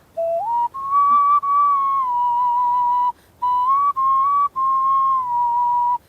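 A small clay toy whistle blown in several steady, sustained toots with short breaths between them, loud and close, slightly wavering in pitch.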